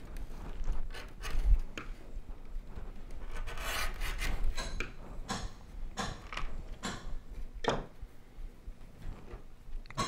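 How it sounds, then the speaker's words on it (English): A knife shaves along the edge of a leather holster to bevel it, producing short rasping scrapes and rubs in an irregular rhythm, close and fairly quiet, with no voices. "a heavier bevel on the inside to give it more rounded edge."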